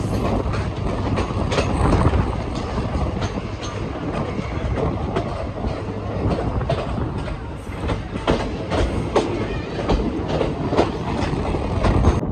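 The daily Tungabhadra Express (17023) from Secunderabad to Kurnool rolls along, heard from inside as a loud, constant rumble with repeated sharp clickety-clack wheel beats over the rail joints.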